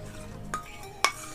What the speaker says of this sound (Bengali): আমি ঘিয়ের সাথে কর্নফ্লাওয়ারটা মেল্ট করে নিয়েছি